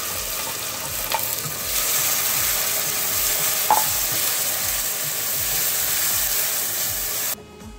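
Masala paste for crab curry fries and is stirred in a pan, a loud continuous sizzle with rhythmic scraping strokes that stops abruptly near the end.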